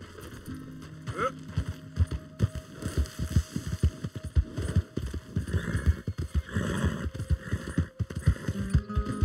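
Horse hooves clip-clop in Red Dead Redemption II, a steady rhythmic trot of close, distinct hoofbeats continuing throughout over low ambient hum, with a brief whinny near the start.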